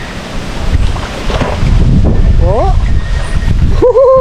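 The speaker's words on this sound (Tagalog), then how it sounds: "Sarap ng hangin." Steady wind roars across the microphone with rumbling gusts on a farm in Silang, Cavite, while a person briefly exclaims and other sounds chirp faintly near the end.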